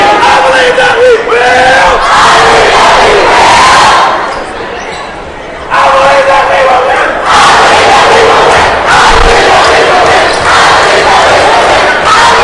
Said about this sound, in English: He's got the crowd fired up.